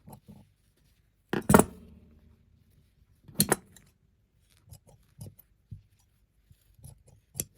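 Scissors snip through tailor's tacking threads on fabric, a few sharp close cuts with quieter small clicks and handling noises between them in an otherwise quiet room.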